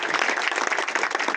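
Steady applause from a group at a National Safety Week celebration, dense and even, clapping continuously at close range without pause.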